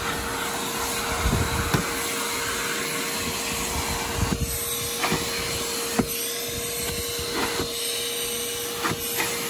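A Hart 16-gallon 6 peak HP wet/dry shop vacuum runs steadily at close range, a loud continuous whine and airflow roar with a faint intermittent knocking, and no voices.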